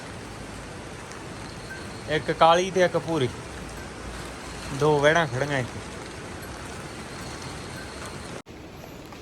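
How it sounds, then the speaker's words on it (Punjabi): Steady rain hisses without a break outdoors near the Alaknanda river on a cycling trip, while someone talks briefly twice over it. "ਹਜੇ ਵੀ ਮੀਂਹ ਪਈ ਜਾਂਦਾ"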